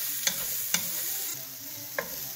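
Thinly sliced garlic stirred in a hot pan gives a steady bright sizzle, with three sharp scrapes of the spoon against the pan spaced through it, close and without talk.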